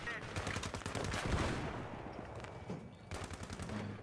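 Rapid gunfire bursts crackle through a Battlefield 3 armored-vehicle battle, dense machine-gun volleys rolling over a steady engine rumble and continuing without pause.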